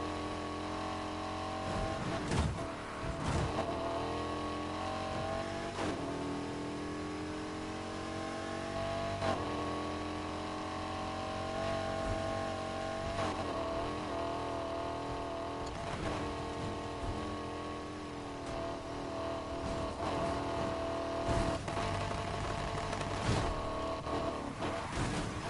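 A BMW M5 sedan engine in Need for Speed Heat accelerates hard and steadily, its revs climbing through repeated gear changes with brief dips between, loud and continuous throughout.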